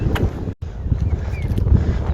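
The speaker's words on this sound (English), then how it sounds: "it's like quite windy today" Wind gusts rumble against the microphone at moderate loudness on a track, broken by a brief dropout near the start.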